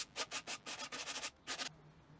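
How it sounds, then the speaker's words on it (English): Sandpaper scrubs a freshly handsawn metal piece for a lathe restoration in quick back-and-forth strokes, about eight close, rhythmic rasps followed by a pause. "I just clean it up a little bit with some sandpaper."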